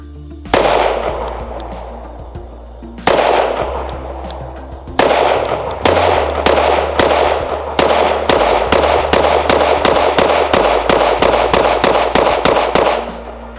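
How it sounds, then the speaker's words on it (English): A Kel-Tec PR57 rifle fires a long string of sharp, loud shots outdoors: a few spaced reports at first, then a steady, rapid rhythm of close, cracking blasts that each ring out briefly. "First shots."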